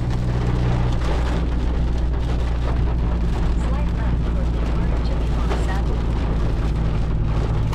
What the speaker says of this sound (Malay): Okay, hujan rahmat.